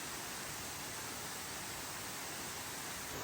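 Steady, even rush of a winter waterfall in Aso, Kumamoto, heard from a path behind the falling water, a constant broadband roar with no breaks or voices.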